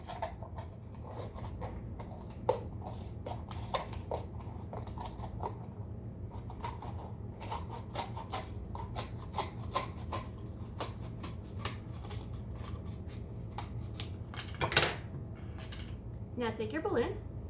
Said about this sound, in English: To start, cut the bottom off your cup.